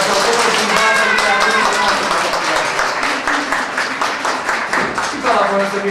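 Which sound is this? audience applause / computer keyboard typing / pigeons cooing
audience applause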